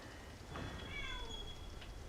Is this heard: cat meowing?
yes